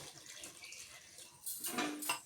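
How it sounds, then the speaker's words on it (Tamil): A short, faint splash of water poured into a pot of cowpea curry, rising briefly near the end before it stops. "கொஞ்சமாக தண்ணி சேர்த்துக்கலாம்."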